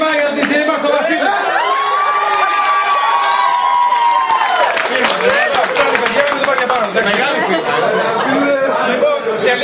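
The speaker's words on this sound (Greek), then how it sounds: "και ένα χειροκρότημα για τον DJ μας τον Βασίλη" A crowd at a live magazine event applauds and cheers for the DJ. Loud, dense clapping and whoops build after a sustained tonal stretch, with chatter mixed throughout.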